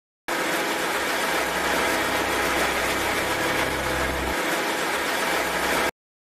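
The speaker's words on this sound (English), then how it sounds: "Riverboat." A riverboat engine idles with a steady, close rumbling drone and broad mechanical hiss, running evenly on its own with no voices.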